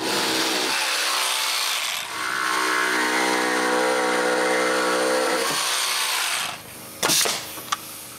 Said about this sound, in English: I need to cut some notches so they can fit on the supports I just nailed.